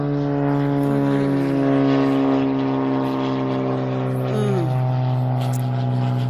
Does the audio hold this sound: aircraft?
yes